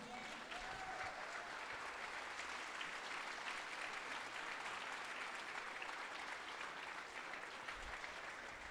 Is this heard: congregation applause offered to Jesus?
yes